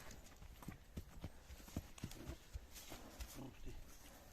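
A mare's hooves clip-clop at a steady walking pace on hard ground, fairly close, with a few faint voices in the background.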